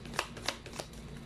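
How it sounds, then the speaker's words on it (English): A deck of tarot cards is shuffled close by in three quick, crisp bursts, evenly spaced, with no voices. "you saw me shuffle as always"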